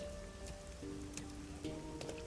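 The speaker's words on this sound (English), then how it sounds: "isn't it weird how it's not flooded, given how it's always raining here?" Steady rain pours down in the rain-soaked city of the video game Master Detective Archives: Rain Code, a constant soft hiss with a faint background tone and occasional brief ticks.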